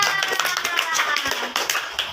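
Primary-school children in a classroom clap their hands together in a quick, rhythmic burst, many close, sharp claps with voices mixed in.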